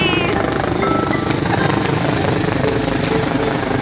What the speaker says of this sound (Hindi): ये देखिए हेलीकॉप्टर जा रहा है यहाँ पर